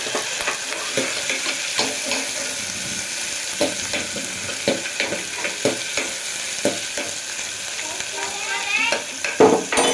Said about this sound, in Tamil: அடுத்து சின்ன வெங்காயம் எழுச்சி வச்சுருக்கோம் அதை சேர்த்துக்கலாம் பெரிய வெங்காயத்தையும் சேர்த்துக்கலாம் ரெண்டு நல்லா வதங்கட்டும்